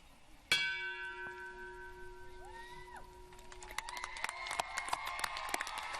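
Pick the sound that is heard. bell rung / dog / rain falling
bell rung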